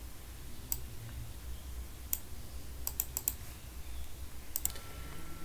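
Keys tapped on a computer keyboard while entering a web address into a browser, heard as sparse, sharp clicks in small bursts over a low steady room hum, fairly close and moderately quiet.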